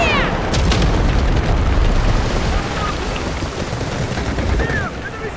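AWM sniper rifle fire in the video game Delta Force, a loud booming shot with rumbling tail and further gunfire echoes, heard close and alone without speech.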